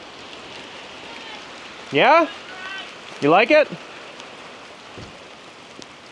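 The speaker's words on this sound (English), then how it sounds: "Keeping things out of the rain. Boy, it's rainy out there." Rain falls steadily on a tarp outdoors, a constant soft patter filling the whole stretch behind a man's brief speech.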